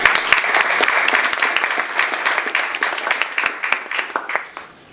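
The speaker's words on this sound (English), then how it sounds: "If you could please give them a quick round of applause." An audience at an infrastructure and innovation panel event claps for the panel organizers, sharp individual claps standing out within steady applause that slowly thins and fades toward the end.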